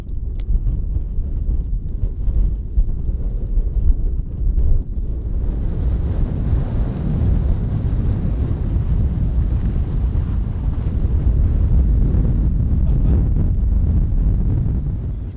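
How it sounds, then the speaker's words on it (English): Steady, loud wind on a mountain roars and buffets the microphone throughout, a continuous low rumble that thickens and grows harsher partway through. "it is windy as hell"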